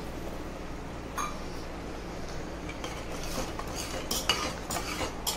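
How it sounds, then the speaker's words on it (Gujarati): Farali samo being stirred with peanuts and water in a pressure cooker, a low watery churn with metal spoon scrapes and a few clinks against the pot, close and quiet. "તેને હલાવીને મિક્સ કરીશું"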